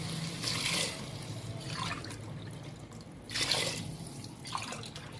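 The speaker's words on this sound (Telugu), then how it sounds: "నేను ఇప్పుడు వాటర్ పోస్తున్నాను" Water splashes and trickles in short bursts, faint and close, as though poured in a few separate glassfuls into a pot of rice.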